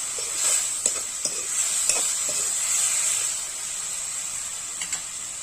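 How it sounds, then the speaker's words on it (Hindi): Tomato and fish curry stirred in a pan, with soft scraping strokes over a steady sizzle and hiss of cooking, close and fairly loud, with no talking. "बढ़िया से मिक्स कर ले,"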